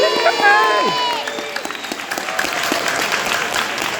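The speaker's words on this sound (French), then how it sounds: "On peut applaudir à Amandine, s'il vous plaît." A French audience applauds a speaker named Amandine at an autism-rights event, with a voice briefly over the start before dense, steady clapping from a crowd fills the rest.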